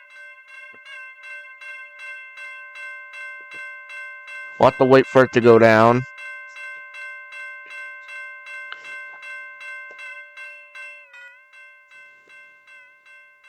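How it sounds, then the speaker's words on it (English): A railroad crossing bell in the video game Ro-Scale Sandbox rings in a steady, even rhythm of bright metallic strikes throughout, with someone speaking briefly over it partway through. "The bell continues to ring through."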